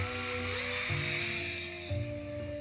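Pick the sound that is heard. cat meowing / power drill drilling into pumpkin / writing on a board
power drill drilling into pumpkin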